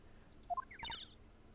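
Bird sound effects from the Phoenix Wright: Ace Attorney video game: two rising tweets, then a quick cascade of fluttering chirps, faint and brief, with no talk.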